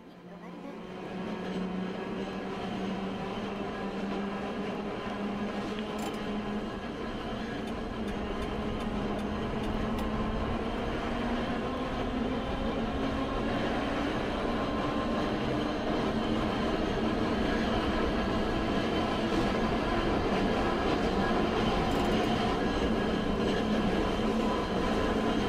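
A tram in the Hakodate tram-driving video game pulls away and runs along the line, a steady rumbling roll with a motor whine that climbs gradually in pitch, continuous and fairly loud for the whole stretch.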